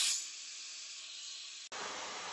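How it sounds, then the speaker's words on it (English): A hair dryer drying curly hair, blowing with a steady airy hiss close by, cutting out briefly near the end before resuming. "now that I've hovered for a few minutes, I'm going to go ahead and go in and do the pixie drying."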